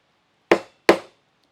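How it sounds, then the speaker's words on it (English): Two sharp metallic hammer blows strike a punch tube to set a grommet in canopy fabric, evenly spaced about half a second apart, close and clear with quick decays and silence around them. "You need to hit it with a hammer or your mallet"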